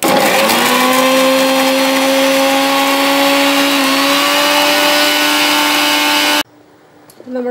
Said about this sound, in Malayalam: അത് ഞാൻ മിക്സിയിലിട്ട് അടിക്കാൻ പോവുകയാണ്.